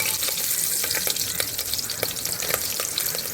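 Green chillies, split lengthwise, fry in hot oil for a vegetable biryani, giving a steady close sizzle with crackling pops and the scrape of stirring all the way through.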